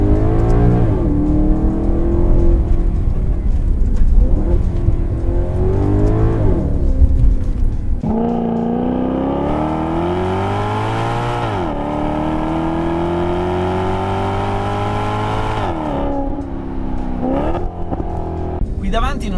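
Maserati GranTurismo Sport with a naturally aspirated Ferrari-derived 4.7-litre V8 revving loudly and repeatedly, pitch climbing and falling in long sweeps, close and dominant.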